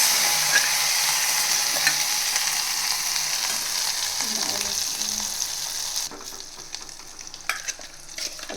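Mustard seeds, curry leaves and dried chillies crackle and sizzle in hot oil for a tomato chutney tempering, a loud dense frying hiss that eases slightly near the end with a few sharp pops and stirring sounds.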